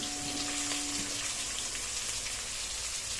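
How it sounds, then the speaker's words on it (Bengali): Rohu fish sizzles in hot oil with a steady, dense crackling hiss, loud and close, with no voices. "চলুন তাহলে আমরা আস্তে আস্তে মাছটা ভেজে নিই"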